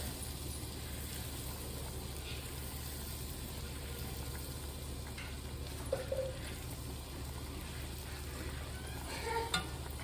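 Chicken fried steak drippings melting and sizzling in a pan for gravy, a steady, soft frying hiss with a few faint scrapes and clinks.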